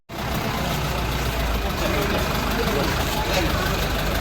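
A vehicle engine runs at idle as the vehicle is moved, a steady, loud rumble throughout with voices talking over it.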